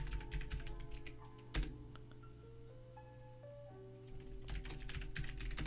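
Typing on a computer keyboard, a run of quick close clicks at the start and again near the end, with a quieter stretch of steady tones and a soft hum in between.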